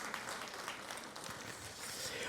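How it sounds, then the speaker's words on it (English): A round of applause from the audience at an awards ceremony, a faint, steady wash of clapping that holds evenly for the whole stretch without any talk. "How about a nice round of applause one more time for all of our amazing, distinguished guests?"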